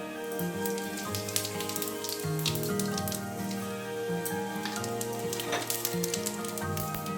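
Cumin seeds sizzle in hot oil in a pan, giving a steady crackling hiss throughout under tonal background music.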